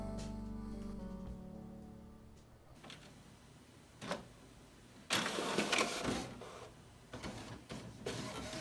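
An HP Pro 8600 printer whirs and clicks as it feeds paper, starting with a motor hum, then a few mechanical clunks and bursts of louder rattling paper movement near the end.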